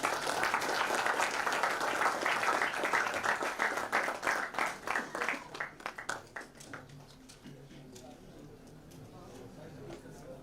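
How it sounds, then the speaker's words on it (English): An audience at a maritime career summit claps to welcome a speaker, a dense round that thins into scattered individual claps and fades out, followed by quiet room tone. "Let's welcome Captain Dr. Daniel J. Joseph with a round of applause"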